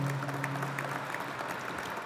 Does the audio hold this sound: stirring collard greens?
no